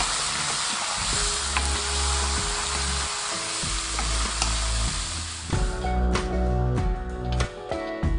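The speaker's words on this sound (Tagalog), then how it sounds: "Lalagay natin ito na ating pusit." Squid sizzles loudly in a hot pan for adobo, a dense frying hiss with clinks of stirring over it, heard up close and with no talking.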